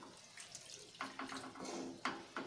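Extra water poured into a pot of cooking lentil dal with curry leaves and cardamom, a faint splashing trickle with soft bubbling and a few brighter splashes near the end, heard alone.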